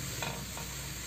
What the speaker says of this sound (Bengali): একটু ভেজে নিলাম মশলাটা শুকনো এই কড়াইটার মধ্যেই